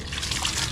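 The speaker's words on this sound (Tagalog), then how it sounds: "Ay buhusan mo ng tubig." Water is poured over a person's body while bathing, a steady splashing gush that runs continuously for a moment without pause.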